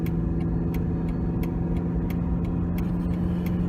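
Road traffic passing steadily nearby, a continuous low engine hum with faint periodic ticking clicks on top and no talk.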